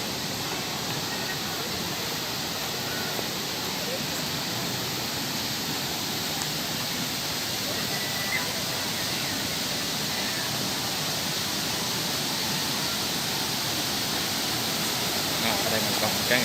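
Da Han waterfall in Dong Nai province, Vietnam, pours as a constant, loud broadband rush of falling water, unchanging and alone across the whole stretch.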